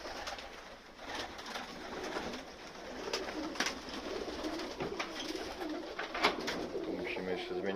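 Pigeons feeding coo softly and flutter in a yard, with scattered soft taps and wingbeats against low background noise, and a person talking at times.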